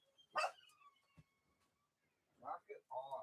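Dogs bark indoors in a few sharp bursts, one near the start and a cluster toward the end, with quiet gaps between them.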